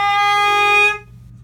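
A single steady tone from a single-reed mouthpiece, held bright and buzzy for just under a second before cutting off cleanly into quiet.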